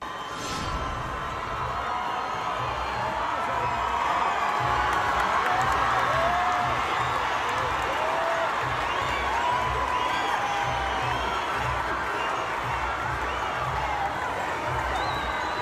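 A concert crowd at Movistar Arena in Bogotá cheering, whooping and applauding continuously in a large indoor venue, a dense, loud roar with scattered shouts throughout.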